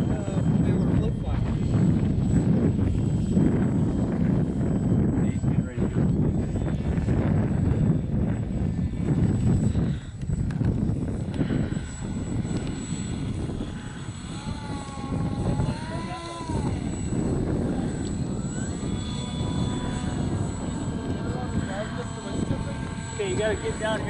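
A float plane comes in to land on the Pajaro River, its steady propeller-engine drone loud and continuous throughout, with people talking nearby over the engine noise.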